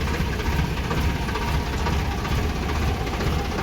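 A steady, low diesel engine idles close by, a continuous rumbling drone with slight knocking vibration and no talking.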